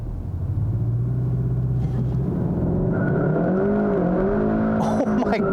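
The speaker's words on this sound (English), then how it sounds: "let's go ahead and try the launch control in this car and see how it performs" A 2021 Kia K5 GT 2.5T turbo sedan launches hard with wheel spin, its engine droning loud and close, then pitching upward as revs climb, with a faint tire squeal near the end.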